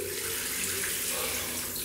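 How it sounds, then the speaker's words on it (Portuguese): Tap water runs steadily over a freshly scrubbed surface to rinse away loosened grime, a close, continuous rushing stream with no voices over it. "Agora eu vou passar água aqui pra vocês verem a diferença."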